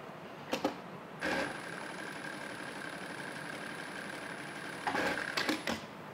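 A Karysm step motor sewing machine runs in a steady, quiet electric whir for about four seconds, framed by a few sharp mechanical clicks and clunks at the start and finish of the stitching.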